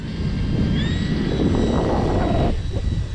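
A Timber Turbo RC model airplane takes off in wind, its electric motor whining loud and close with a rising pitch before the sound drops away abruptly near the end.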